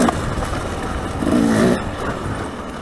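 Off-road dirt bike engine accelerating in fifth gear on a Colorado trail ride, a loud, steady close-up drone that swells for a moment mid-clip and then settles back.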